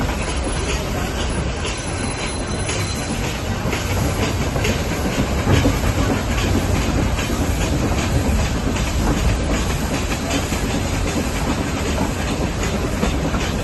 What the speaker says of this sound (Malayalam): കോനൂർ സ്റ്റേഷനിൽ നമ്മൾ പതുക്കെ പുറപ്പെട്ടിട്ടുണ്ട്